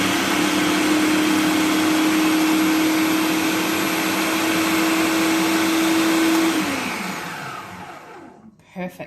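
An electric mixer whips cream into a low-carb lemon slice mixture with a loud, steady motor whir that holds for several seconds, then spins down and stops, followed by a few light knocks.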